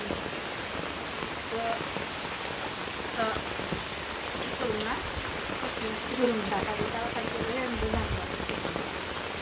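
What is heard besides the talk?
rain falling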